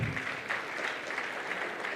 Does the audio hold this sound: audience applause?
yes